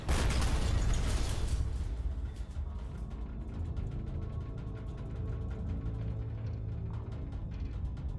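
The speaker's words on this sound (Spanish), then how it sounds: "Otra carga de profundidad explota." An underwater depth charge explodes near a submarine, a heavy booming rumble that swells at first, then lingers as a low churning roar scattered with crackles and faint pops.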